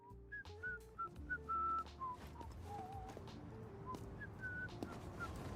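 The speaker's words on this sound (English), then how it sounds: "She whistles a specific tune for reasons that are never explained." A woman whistles a specific melodic tune, a clear sequence of sustained and sliding notes, fairly quiet over a low background bed of music or noise.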